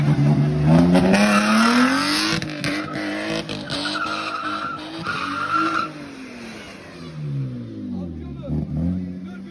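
Car tires skidding and squealing during a burnout on wet ground, with an engine revving and sweeping up and down in pitch, loud and close, while people talk over it.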